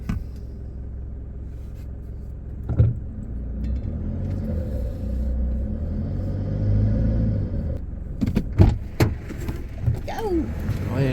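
A diesel vehicle rumbles low and steady while driving on an outback road near Broken Hill, NSW, with a few knocks and clunks and people talking over it in the cabin.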